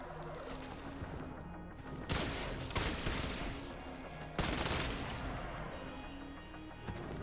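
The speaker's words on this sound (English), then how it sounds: "I just remembered there's meant to be a firework display on tonight" Fireworks display going off outside a window at night, a dense barrage of crackling pops and bangs with several sharper loud booms, steady and muffled at a distance.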